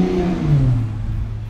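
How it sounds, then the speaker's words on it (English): A Ford Mustang with a poor-sounding exhaust revs nearby: a loud, deep engine rumble that rises and then falls away over about a second and a half, with no talk. "Oh, that exhaust sounds terrible on that Mustang."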